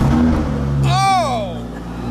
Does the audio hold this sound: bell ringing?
no